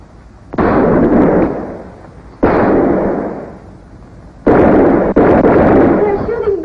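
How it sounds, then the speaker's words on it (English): Gunfire erupts in a shootout in a crime drama film: loud, sustained bursts of shots and blasts arrive in three heavy volleys, separated by brief, quieter lulls. "They're shooting back."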